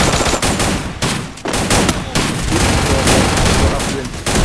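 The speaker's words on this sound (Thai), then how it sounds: "เสียงยิงหัวแน่นๆอ่ะ" Dense, rapid Free Fire gunfire landing headshots crackles continuously for a few seconds, loud and close, with faint voices underneath.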